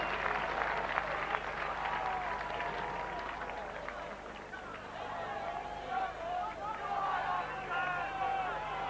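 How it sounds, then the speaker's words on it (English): Crowd at the Henley rugby sevens, 1997, cheering and applauding a try, a sustained wash of clapping and hubbub from a large audience with a commentator talking over it. "The biggest cheer of the day."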